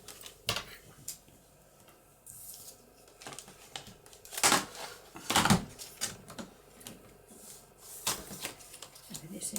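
Scissors snip through patterned papercraft paper, trimming an offcut into a thin label strip, with close, crisp cuts and paper rustling amid intermittent talking.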